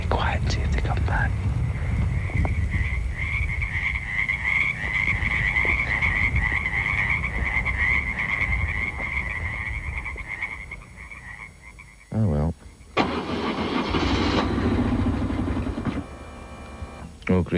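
Frogs at a pond give a long, continuous trilling croak lasting several seconds. A quiet voice sits underneath, and the trill breaks off into louder, rougher noise toward the end.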